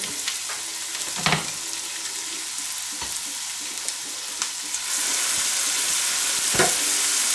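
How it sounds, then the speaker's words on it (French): Meat sears in a very hot frying pan, a steady loud sizzle with a few sharp crackles and pops, rising to a fuller hiss partway through, with no voices. "Donc, la poêle est bien chaude. On met la viande."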